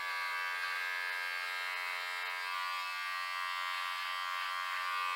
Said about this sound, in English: I've changed out the little trimmer, and you can see that you can cut in